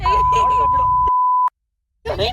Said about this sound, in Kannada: ಎಲ್ಲ ಬೀಪ್ ಹಾಕ್ಬಿಡ್ತೀನಪ್ಪ ಬೀಪ್ ಬೀಪ್ ಬೀಪ್